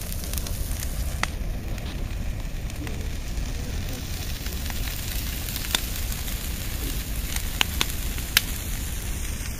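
A midsummer bonfire burns outdoors with a steady rushing roar, broken by scattered sharp crackles and pops, and faint voices in the background.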